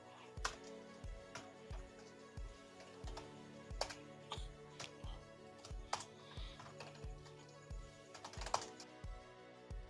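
Steady keystrokes on a computer keyboard while code is entered, a brisk irregular patter of close clicks with occasional louder key strikes, no talking.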